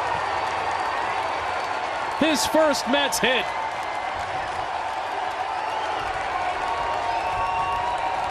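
Baseball stadium crowd at a Mets vs Braves game cheering as Cameron Maybin gets his first Mets hit, ending an 0-for-27 streak; a steady crowd roar swells under broadcast commentary.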